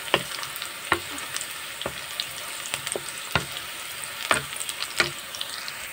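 Sliced onions and chilies with whole cumin frying in oil in a pan, a constant crackling sizzle with sharp spatula taps and scrapes recurring every second or so, close by and without speech.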